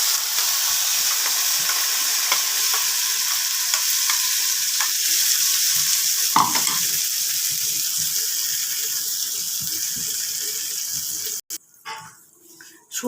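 Spice paste with cardamom and mace fries in a pan for soya afghani, a loud, continuous hiss with occasional stirring scrapes that stops abruptly near the end, followed by a few clatters.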